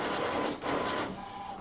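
An Epson WorkForce printer initializes as its carriage shifts sideways, giving a steady mechanical whir with a brief dip partway through and a rising motor tone near the end, close and continuous.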